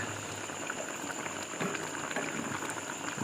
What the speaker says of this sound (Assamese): ধুনীয়াকৈ বইল হৈছে